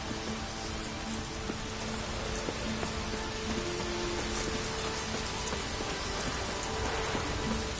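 Heavy rain in The Witcher 3 pours as a dense, constant hiss, with patter on surfaces and a low rumble underneath, steady and loud for the whole stretch with no voices.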